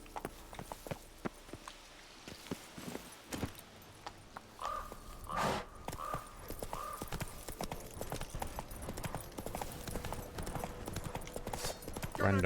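Roach, a horse in the video game The Witcher 3, gallops with steady rhythmic hoofbeats, broken by a brief whinny and scattered bird caws in the background.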